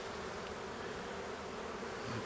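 A dense, steady hum of many bees buzzing nearby fills the air continuously with no pauses or voices.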